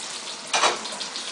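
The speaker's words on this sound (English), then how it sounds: "you're just going to let them get run by some cold water" Cold tap water runs over hot hard-boiled eggs in a strainer, a steady close hiss of flowing water with one brief louder splash midway.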